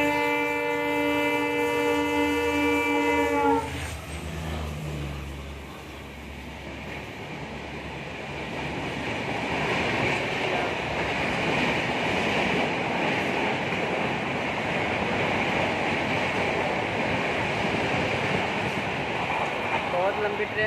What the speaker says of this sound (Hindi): आप देख सकते हैं गाइस ट्रेन आ रही है।